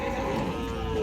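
A buffalo at a village buffalo market in Vasmat, Hingoli, gives one short, low, close moo against steady market background noise.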